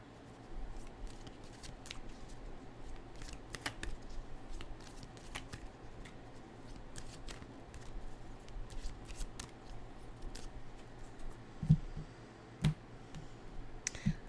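Tarot cards shuffled and cut by hand, a soft continuous riffling and papery flicking close up, with sharper taps and slaps as the deck is cut near the end.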